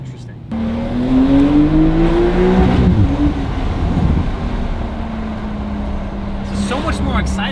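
Porsche 992 Carrera fitted with a Valvetronic Designs titanium exhaust and OEM downpipe, engine note rising then dropping into overrun with faint crackles, heard from inside the car under someone talking.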